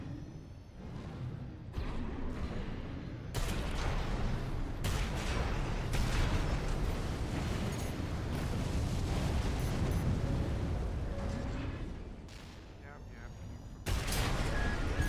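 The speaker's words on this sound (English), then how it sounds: "you noticed the fireworks I left for you" Fireworks going off in a video game, a dense, loud barrage of bursts and crackling explosions that rolls on almost continuously, with brief cuts between volleys.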